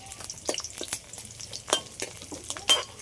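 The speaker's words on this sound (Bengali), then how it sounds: "এগুলো সব একসাথে একটু ভালো করে ভেজে নিলাম।" Garlic cloves, cumin and chili frying together in hot oil, a crackling sizzle broken by several sharp stirring scrapes and taps of the spoon against the pan, heard up close with no talking.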